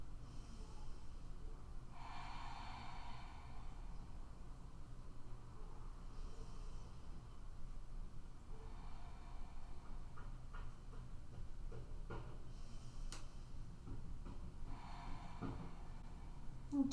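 Slow, deep yoga breaths during a gentle flow session: soft whooshing inhales and exhales come a few seconds apart, faint and close over a steady background hiss.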